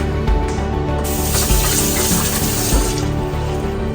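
Water runs steadily from a tap, a continuous splashing rush into a sink, close by and fairly loud throughout.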